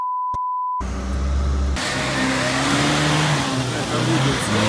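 An off-road car (Niva or UAZ) engine revs hard and pulls away through deep snow, a steady loud drone with rising and falling pitch after a short beep at the start.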